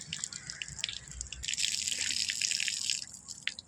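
Water runs and splashes as someone washes their face outdoors, heard as a close, steady trickle with quick drips and splashes, fairly quiet and with no talking.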